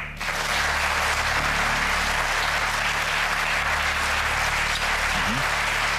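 Studio audience at a TV cooking game show breaks into steady, loud, sustained applause that fills the whole stretch, with a brief voice near the end.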